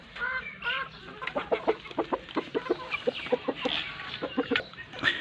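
A white hen clucks in a rapid, irregular run of short calls, close and fairly loud, with no talk over it.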